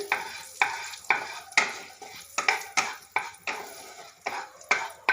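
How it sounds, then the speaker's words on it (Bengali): Turmeric powder stirred into hot oil in a pan, a loud sizzle swelling with about a dozen regular spatula strokes, each scrape sharp at the start and fading quickly, close by with no talk. "এবার আমি তেলের মধ্যে দিয়ে দেবো হলুদ গুঁড়ো, একটু নেড়ে নেবো তেলের সাথে"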